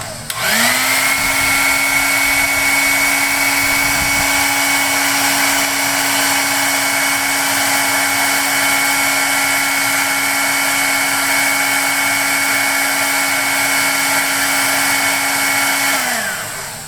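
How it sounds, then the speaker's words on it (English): A hair dryer heats an action figure at close range, a loud continuous whir and airy rush with a constant tone, switching on and off after about sixteen seconds. "you need a hairdryer, and then you want to heat this up"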